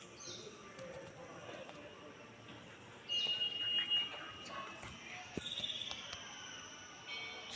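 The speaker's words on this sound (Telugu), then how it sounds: "చూస్తున్నారు కదా బర్డ్స్ సౌండ్ ఉన్నాయి" Birds chirping outdoors on a morning in Sangareddy, faint high tweets and calls scattered across the scene with a person talking over them.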